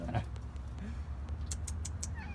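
A pet cat, found as a kitten in alleyways, gives a short meow near the start over low background rumble, followed by faint scattered clicks and rustles.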